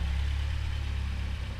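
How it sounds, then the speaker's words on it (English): A rebuilt Volvo 740 Turbo with MegaSquirt engine management idles roughly, a steady close low rumble with a slightly uneven pulse throughout. "This is a mega squirted car, so the idle's a little rough right now and it won't take acceleration at the moment."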